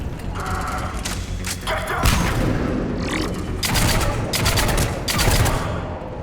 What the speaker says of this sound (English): It's the best sniper rifle we've had, I think